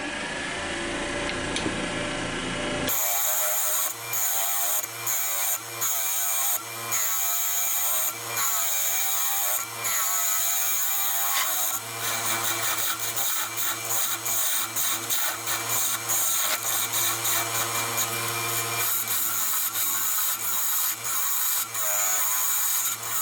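A woodturning gouge hollowing a natural edge ash bowl on a spinning lathe, a close, loud scraping cut broken into rapid repeated bursts over a low steady motor hum, after a few quieter seconds at the start.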